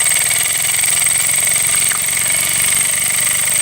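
A small steam engine runs steadily and loudly nearby with an even mechanical drone and a high, constant whine or squeal over it, with no voices.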